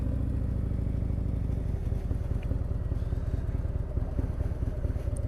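A motorcycle rolling into a parking lot, its engine a steady low, throbbing rumble close by that eases slightly partway through, with faint clatter and no talk.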